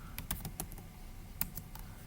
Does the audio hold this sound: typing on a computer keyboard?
yes